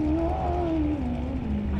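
An off-road race car engine drones with a wavering, slowly falling pitch, steady and moderately distant, on a desert short course, with no voices.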